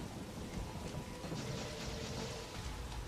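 Steady heavy rain in the game Ninja Gaiden 2 Black, a dense continuous hiss with a low rumble like distant thunder underneath, moderately quiet and without talk.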